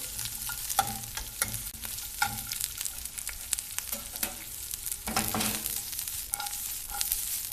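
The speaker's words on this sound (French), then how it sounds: "Après l'huile d'olive, il faut ajouter maintenant l'oignon." Chopped onion fries in olive oil in a pan for a homemade vegetable gratin, a soft continuous sizzle broken by repeated stirring scrapes and clicks, with no talk.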